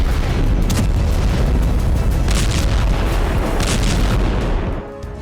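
Heavy airstrike bombardment with continuous, overlapping loud booms and rumbling blasts that keep up without pause, then drop away abruptly near the end.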